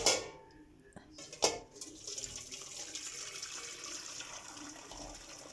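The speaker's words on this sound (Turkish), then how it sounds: "süzgecime döküyorum" Lentil soup pours and splashes into a strainer, a couple of sharp clinks at the start, then a steady trickling drain that fades slightly.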